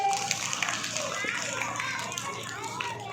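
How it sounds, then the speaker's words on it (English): Children clapping for a classmate at a school community helpers role-play, a busy spattering of small hands mixed with children's chatter and voices in a room. "Clap for Mohammed Hussain."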